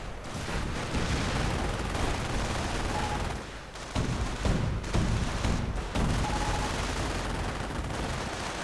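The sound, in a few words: Panzergrenadiers firing at buildings in a strategy video game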